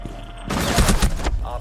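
Gunfire from a tactical shooter video game erupts after a quiet start, a dense burst of rapid shots lasting under a second, loud and close, followed by a brief voice at the end.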